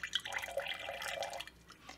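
Green colored water poured from a small container in a preschool color-mixing activity, a soft trickling splash lasting about a second and a half, close and faint with a few light drips.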